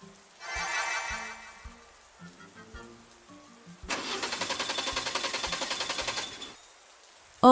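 A car engine is cranked in heavy rain beside floodwater, with a rhythmic whirring starter grinding in two bursts, the second longer and louder, between quieter moments of rain, no voices.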